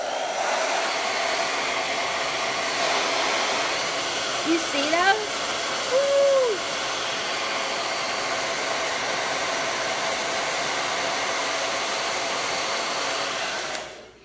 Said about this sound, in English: let me grab the hair dryer